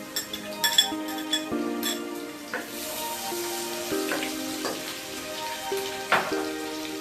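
Chopped onions and a bay leaf fry in a pan with a crackling sizzle, punctuated by sharp utensil clinks and a faint tonal hum in the background.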